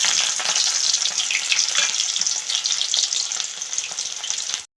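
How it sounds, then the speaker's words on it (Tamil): Small onions (shallots) fry in sesame oil for a medicinal post-delivery kuzhambu. A loud, dense, crackling sizzle fills the clip with restless bubbling and popping, then cuts off abruptly at the end, with no voices. "முதல்ல சின்ன வெங்காயத்தை உள்ளே போட்டு வதக்கிடுவோம்."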